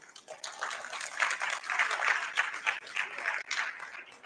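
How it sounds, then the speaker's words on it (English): Audience at a leadership summit applauds in a dense burst of clapping lasting a few seconds, moderately loud and uneven, with no talk over it. "let's give all of you a big round of applause"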